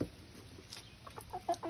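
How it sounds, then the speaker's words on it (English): Chickens cluck in a few faint, short calls over low background noise near a residential block. "These son of a bitching ass fucking chickens."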